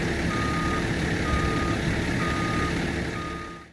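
A CAT 306 CR mini excavator's reversing alarm beeps steadily and loudly over a rumbling engine, then cuts off abruptly at the end.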